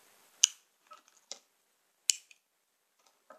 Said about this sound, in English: her neck makes a clicking sound when it moves